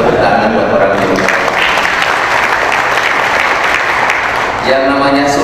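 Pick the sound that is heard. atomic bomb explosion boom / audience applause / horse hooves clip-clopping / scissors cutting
audience applause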